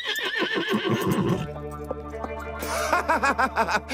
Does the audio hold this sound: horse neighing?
yes